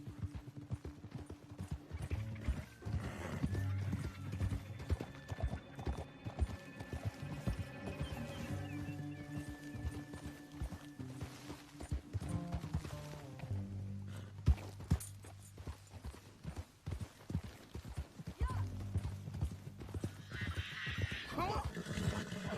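Horses clip-clop in Red Dead Redemption 2 on Xbox One, with rapid rhythmic hoofbeats and an occasional neigh under game music and character voices.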